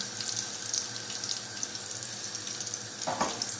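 Eggplant and peppers fry in a pan, giving a faint, steady sizzle with light clatter and a brief louder rustle near the end, no voices heard.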